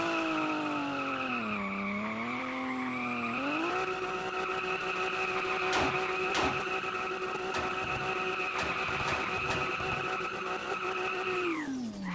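Video game Ferrari drifting with tire skid, engine tone wavering low at first, then rising to a sustained loud high whine before dropping away at the end.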